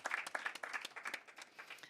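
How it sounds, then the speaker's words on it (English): Brief burst of applause from a conference audience at a land and drought resilience event, many hands clapping steadily at moderate distance with no talk. "the whole team deserves a big round of applause for the efforts being done so far"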